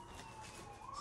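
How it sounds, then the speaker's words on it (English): A faint, distant siren outside wails over a low indoor background hum, its pitch slowly rising near the end. "And I apologize for the siren."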